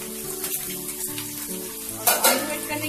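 Potato fried rice stirred and tossed in a hot pan, sizzling and frying steadily with a scrape and clatter of the spoon, plus a louder burst of stirring near the end, with no talking.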